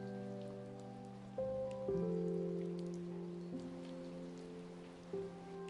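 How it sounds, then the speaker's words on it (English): Steady rain falls with a dense patter of raindrops, heard alone beneath a soft, sustained musical backing that shifts chords a few times. "saw raindrops falling from the sky"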